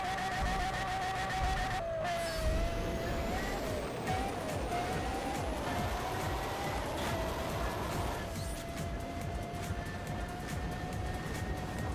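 A car engine in the Need for Speed World racing game drones steadily through the whole stretch, its pitch rising gradually as it accelerates, with a quick gear-shift dip early on; the level stays moderate and no one speaks.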